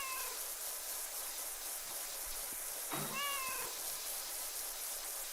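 Cats meow in the PowerWash Simulator 2 video game, a couple of short, thin mews heard faintly through a steady hiss of spraying water.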